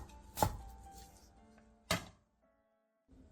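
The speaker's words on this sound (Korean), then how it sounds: "대파 4분의 1개는 길게 반으로 가른 뒤 쫑쫑 썰어주세요." A knife chops a quarter of a green onion, split lengthwise, on a cutting board. Two sharp, separate thunks come about one and a half seconds apart over faint kitchen noise, followed by near silence and a soft final rustle.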